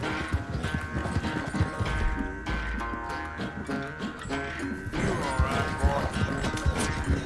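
A horse gallops in the video game Red Dead Redemption II, hooves clip-clopping in a quick, loud rhythm with sharp thuds and a brief whinny over game sounds and music, no one speaking.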